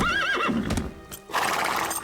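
Diablo, a nervous cartoon horse, lets out a loud, close whinny with a wavering pitch, followed by a few hoof clops and shuffling movement.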